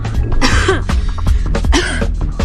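A woman with worsening tuberculosis coughs in several harsh, closely spaced bursts, loud and near, with a short pause before a second round of coughing.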